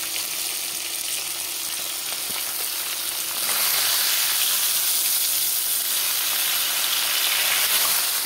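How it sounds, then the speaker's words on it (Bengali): Fish heads fry in hot oil with a dense, continuous sizzle that swells louder partway through and holds steady to the end, with no talking. "বন্ধুরা দেখো, আমার মাছের মাথাগুলো ভাজা হয়ে গেল।"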